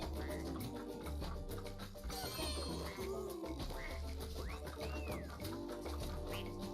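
A duck character in Rayman Legends gives repeated quacks over busy game music and effects, moderately loud and scattered throughout.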